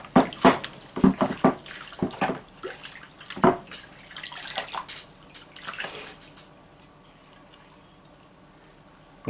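Plain fresh water runs and splashes while Weston jerky slicer blades are rinsed, with uneven splashy bursts for several seconds before settling into a quieter trickle.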